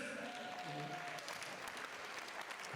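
Wedding guests at an Armenian celebration applaud the musicians, a dense wash of clapping heard faintly behind a voice speaking over it.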